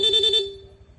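A single short, buzzy stock electric horn honk from a Honda Click V3 scooter lasting about half a second, then a faint low hum as it cuts off.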